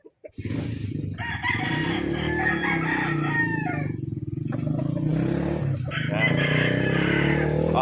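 A bullstag gamecock from a game farm crows loudly up close, one long drawn-out crow followed by a second, with faint background noise and no talking.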